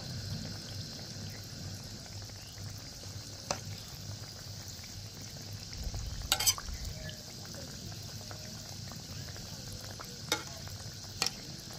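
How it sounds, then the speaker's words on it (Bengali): Wheat flour biscuits fry in a pan over low heat, a steady faint sizzle running throughout, with a few soft clicks and scrapes as the pieces are turned. "এবার আমি উল্টে পাল্টে ভেজে নেব।"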